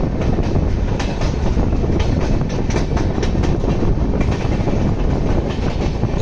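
The NJP Howrah Shatabdi express runs at speed on the rails near Rampurhat, a loud continuous rumble broken by regular clickety-clack beats from the wheels.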